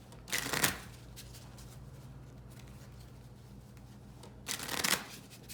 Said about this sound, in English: Orc player has to reshuffle to draw the rest of their command hand, and so they'll do that.